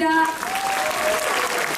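An audience claps after a taekwondo demonstration team's performance at a martial arts festival opening ceremony, a brief wash of steady applause with an announcer's voice over it.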